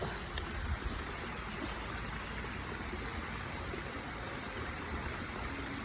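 Steady broadband rush of river current flowing below a dam, a continuous close wash of water with no breaks and no talk.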